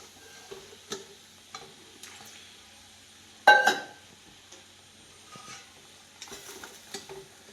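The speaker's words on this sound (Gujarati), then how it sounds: "બધું દૂધ બળે ને ત્યાં સુધી હલાવવાનું" Milk is stirred in a pan as it cooks down for semolina sheera, making intermittent scrapes and light ticking knocks, with one louder scrape in the middle.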